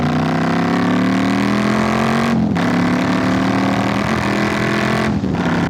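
Low, steady rumble of a Triumph Street Scrambler motorcycle engine held at about 1500 rpm while cruising, loud and close, with two brief dips where the throttle eases, and no voices.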